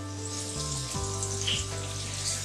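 Garlic and ginger frying in a pan, a steady close sizzle with bright crackle throughout, over a constant low background hum.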